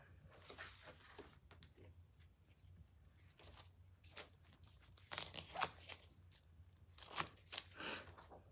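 Scissors snip through craft material for boho pumpkins, a few quiet scattered crunchy cuts and rustles close by, with brief pauses between the snips and no talk.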